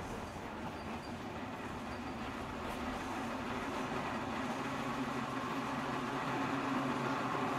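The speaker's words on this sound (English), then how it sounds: "Or am I just having to wait out this full, like, train going sound file?" Train running in the video game Promesa, a steady rumbling rail roll with faint clickety-clack, continuous and moderately loud with no talk over it.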